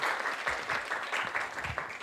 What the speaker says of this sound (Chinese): 我们就用最热烈的掌声来欢迎我们的 Diego 老师来带来的课程